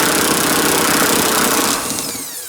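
Power tool loosening a 14 mm seat bolt on a Toyota Corolla, a steady loud continuous whir that holds for about two seconds then winds down near the end.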